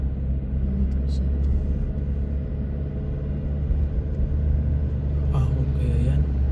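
A vehicle's engine labours as it climbs a hill in Castaneda, Nueva Ecija, a steady low rumble heard from inside with faint distant clatter near the end.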